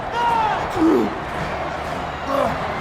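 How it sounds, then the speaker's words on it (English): Loud arena crowd at a wrestling match in the film The Iron Claw roaring and chanting a wrestler's name continuously, with voices and whoops rising above the dense, sustained din. "the crowd is chanting his name like crazy."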